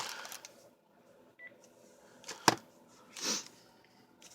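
A single brief electronic phone beep sounds faintly amid soft rustling and card-making handling noises, followed by a couple of louder clicks and a scrape.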